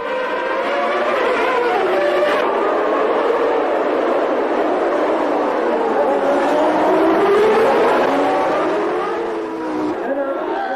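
A pack of Formula One cars, with McLaren and Ferrari among them, surges away from the starting grid as a loud, continuous blend of high-pitched engine whines. The pitches rise and shift as the cars pull away, and there is no talking.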